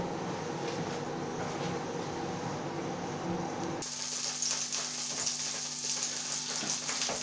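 A steak sizzling as it heats in a pan, a steady broadband hiss that runs unbroken throughout and grows brighter and crisper partway through, close and fairly loud.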